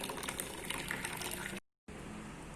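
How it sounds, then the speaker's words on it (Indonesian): A tomato sauce mixture pours into a pot for boiling as a steady, close liquid gush that briefly cuts out, then resumes. "Selanjutnya larutan yang sudah jadi kita tuang untuk kita didihkan"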